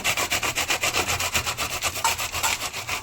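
Capsicum is rubbed against a kitchen grater in quick, even back-and-forth strokes, a close rasping rhythm of about five scrapes per second with no voices.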